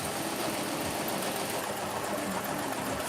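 A sewing machine fitted with differential feet stitches a quilt, making a loud, steady, rapid mechanical whirr that runs unbroken throughout.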